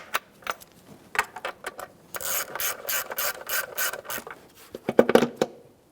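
A ratchet socket spins throttle body bolts on a Ford Fusion 2.0L I4, a run of rapid close clicks between scattered single ticks and metallic rubbing, loud and alone.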